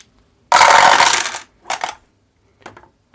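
Dice rolled at a tabletop wargame to decide who goes first clatter loudly in one sharp burst, then a couple of quieter rattles as they settle.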